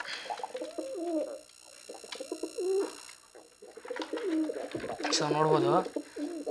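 Pigeons coo softly near a nest holding an egg, low rolling calls repeating under a man's intermittent speech, fairly quiet and close.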